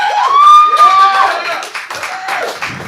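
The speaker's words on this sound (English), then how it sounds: "give him a round of applause" An audience at a comedy showcase applauds a fill-in comedian; steady clapping runs throughout, with a rising, wavering whoop or whistle of cheering riding on top early on.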